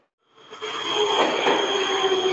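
Metro train pulling away from a station platform, rising from silence into a steady loud rumble with a high whine and squeal building as it accelerates.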